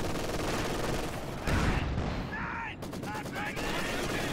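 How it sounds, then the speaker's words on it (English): Bursts of Maxim and MG42 machine gun fire rattle in a tank video game match, rapid rolling volleys and sharp cracks layered over dense battle noise, with a commentator talking over them. "Oh, it's a machine gun fight. Maxim versus MG42."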